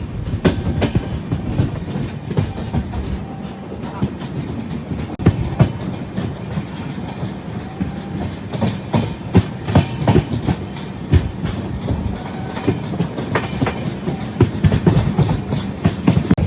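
Rayalaseema Superfast Express rolling along the rails on a journey from Tirupati to Secunderabad, a steady loud rumble of carriages with repeated clickety-clack wheel beats and occasional faint squeals throughout.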